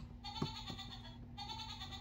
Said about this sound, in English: Get the sound of a normal goat.